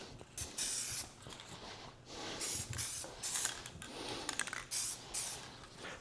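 Aerosol paint sprayed in quick light coats onto a removed RV side mirror from a Forest River Georgetown, heard as close steady hissing bursts of a few seconds each with brief pauses between passes.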